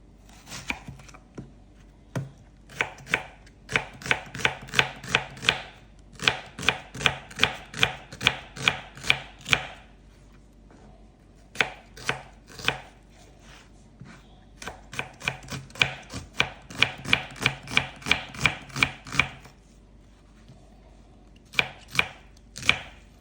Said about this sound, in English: I'm gonna chop up the onions, the green pepper, the garlic and stuff